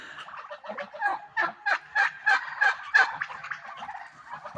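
A turkey gobbles close by, a rapid run of throaty warbling bursts that rises into a loud rhythmic series of about six sharp pulses before tapering off, with no other voices.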